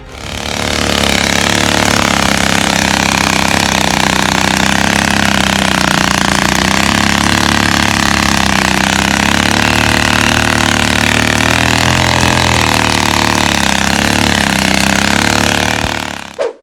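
Engine of a modified amphibious motorcycle built from a Modena Skri 110 and a Honda C70 runs steadily and loudly up close for the whole stretch, a continuous droning idle with no talk.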